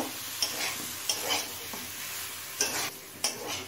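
Eggplant pieces are stirred into vegetables frying in a pan for a Bengali taro-leaf dish, a steady soft sizzle broken by several sharp scraping strokes of a spatula against metal, close and quiet, no voices.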